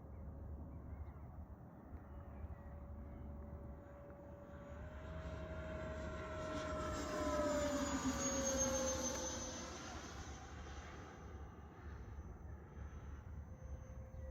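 A Flyfans K8 Karakorum 80mm electric ducted fan RC jet flies past outdoors, its faint whine swelling as it nears, peaking, then fading with a falling pitch, over steady background noise.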